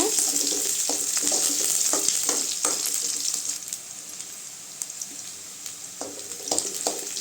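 Onions with dried red chillies sautéing in a pan for banana stem poriyal, producing a constant hissing sizzle with intermittent spatula stirs and scrapes, heard up close without speech.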